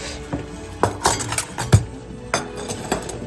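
Several separate clinks and clatters as cat food dishes are set down on a hard surface, irregularly spaced, close and fairly loud.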